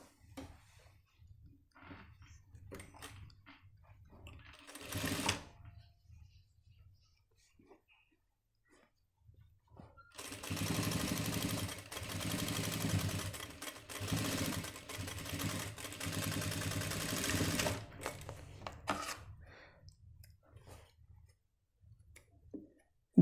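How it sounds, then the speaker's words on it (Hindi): A sewing machine stitches the back pocket of a gents' pant, with a short burst of whirring stitches early on, then a long steady run of rapid mechanical chatter lasting about eight seconds, close and clear, with soft handling noises in between. "पलटने के बाद हम इसको बिल्कुल इसकी जड़ में सिलाई मार देंगे एक"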